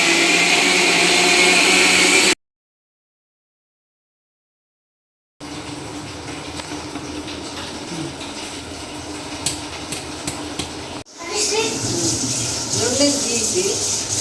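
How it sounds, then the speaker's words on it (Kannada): A mixer grinder whirs loudly as it grinds grated coconut for kaayi holige, cutting out abruptly and then starting up again in bursts, with no talking over it. "ಕಾಯಿ ತುರಿ ಮಿಕ್ಸಿಗೆ ಹಾಕಿ ಸ್ವಲ್ಪ"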